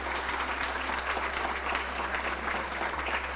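Audience applause at the Pour un Instant 2024 festival, held inside a revived old building, with steady, even clapping from a moderate crowd throughout, somewhat distant and over a low constant hum.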